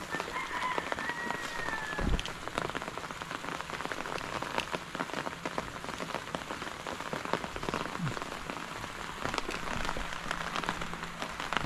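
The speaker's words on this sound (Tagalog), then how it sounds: "Hinto na mamaya yung ulan." Steady rain patters and drums on surfaces around a farm, close and continuous, with a faint rooster crowing in the background.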